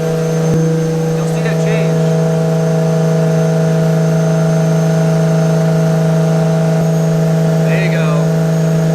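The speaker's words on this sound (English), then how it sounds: "So you hear the car loaded up right now. The dyno is holding it there with load" A Toyota JZX110 Mark II engine drones steadily under load on a dyno, holding a loud, constant-pitch note throughout while someone talks over it.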